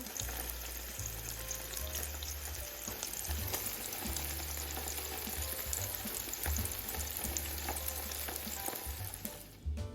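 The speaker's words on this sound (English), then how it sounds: "Added these to the pan, gonna wait and see, watch them sizzle." Steady, loud sizzling and crackling of burger patties frying in a pan, continuous throughout with a low hum underneath.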